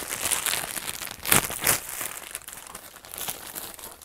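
Close crinkling and tearing of packaging as an IBM PCjr keyboard cable is unboxed, with a few louder crunches among steady rustling.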